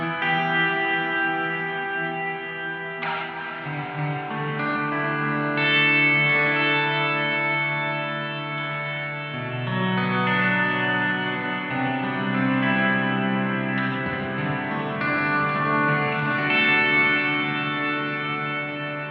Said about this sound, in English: The reverb I really liked was the Searchlights.